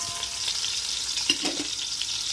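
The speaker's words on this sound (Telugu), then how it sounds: "చూసారు కదండి కొంచెం వేగిపోతుంది ఉల్లిపాయలు." Onions fry in a pan for chicken biryani with a steady bright sizzle and a brief stirring scrape midway.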